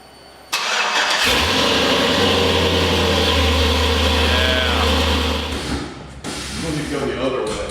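A UBTK5 engine cranks over and catches, then runs with a steady, loud low drone for several seconds before the note drops and picks back up, as if the revs shift.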